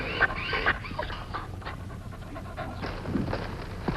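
An injured dog pants rapidly in a radio drama, short breathy gasps close to the listener with a faint whimper, heard alone over a quiet background.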